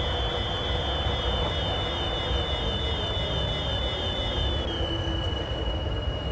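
A Class 91 electric locomotive in Train Simulator speeds past another train, producing a steady, loud rail rumble with a high, sustained whine from the wheels and motors, and no voices.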